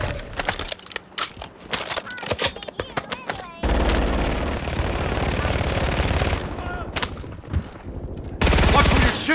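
Rapid bursts of automatic gunfire and single shots crackle through a Warzone 3 battle royale match, dense and loud in the first few seconds, then giving way to a steady engine-like roar and a late loud blast, with voices talking underneath.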